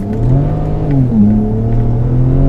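A tuned BMW 335i with the N54 turbo engine accelerates hard from a launch, a loud close engine roar rising in pitch, dipping briefly at a gear shift, then climbing again.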